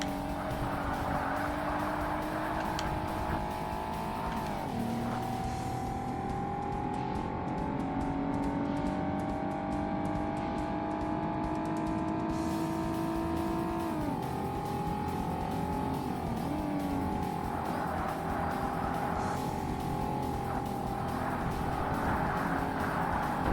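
Race cars in Forza Motorsport on the Sunset Peninsula Infield track: a continuous engine whine rises and drops through gear changes and corners, with other cars and faint tire noise behind it, steady and fairly loud.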